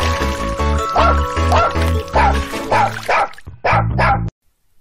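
A dog barks repeatedly in short bursts over a bouncy instrumental tune, the barks coming in a quick rhythm before stopping.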